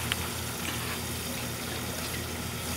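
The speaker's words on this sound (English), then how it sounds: "So the water goes through, I don't know if you can see it too good, but drains through the bottom there" Water draining through a homemade aquarium sump on a 40 breeder tank, a steady soft trickle and gurgle of flowing water, continuous and fairly faint with no talking.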